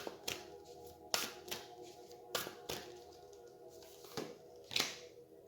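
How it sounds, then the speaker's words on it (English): Oracle cards being shuffled by hand, a series of quiet, sharp riffling snaps and taps at irregular intervals over a near-silent indoor room. "You saw me shuffle."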